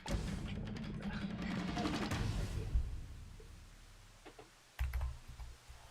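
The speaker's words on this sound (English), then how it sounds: "Get all the keyboard sounds." Rapid keyboard typing, a dense run of clicks for a few seconds, then a pause and a short final burst of keystrokes, fairly close.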